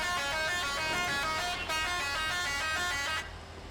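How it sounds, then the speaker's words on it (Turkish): A video game car horn blares in a long, steady honk, briefly broken once, then cuts off near the end. "Korna da var abi."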